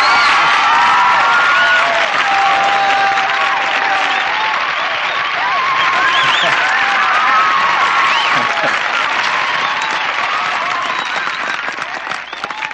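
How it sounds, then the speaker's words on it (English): Students applaud at a high school senior day, a loud, dense and sustained wash of clapping with crowd murmur and a few whoops running steadily throughout. "I get a huge round of applause."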